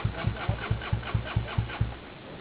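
A motorcycle engine running on a dirt trail, a close, loud idle with a regular thumping pulse of about four beats per second, tapering slightly at the end.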